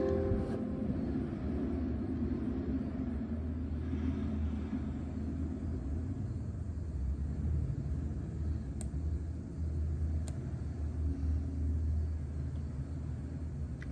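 A 6.0 LS engine converted to multiport fuel injection runs steadily with a deep, continuous rumble and drone, loud and unbroken, with a couple of faint clicks and no speech.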